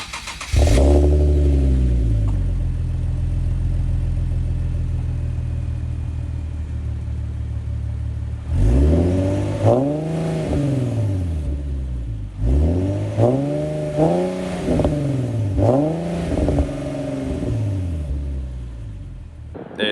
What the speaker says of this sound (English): So I went from the stock exhaust to a Invidia Gemini catback exhaust, which makes it sound 100 times better.